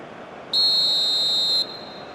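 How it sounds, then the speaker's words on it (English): A referee's whistle in eFootball PES 2021 during a Côte d'Ivoire vs Norway match: one loud, steady, shrill blast lasting about a second, rising above a constant background crowd hum. "And the whistle's gone, presumably for offside."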